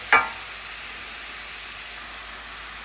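White wine hitting a hot pan of garlic for a Portuguese seafood stew, a sharp brief sizzling burst at the start that settles into a steady, loud broadband hiss with no voice.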